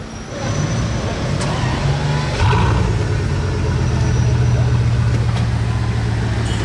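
A Bugatti supercar engine rumbles steadily at idle, its low drone shifting once in pitch partway through, loud and close with faint background noise.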